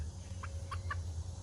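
Backyard chickens coming out through a new automatic run door give three soft, brief clucks in quick succession over a low, steady background rumble.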